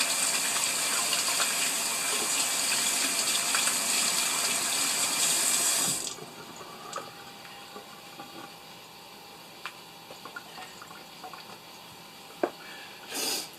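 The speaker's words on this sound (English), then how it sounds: "Wash our hands." Water runs steadily from a tap as hands are washed in a kitchen sink for about six seconds, then shuts off, leaving faint clicks and small handling knocks.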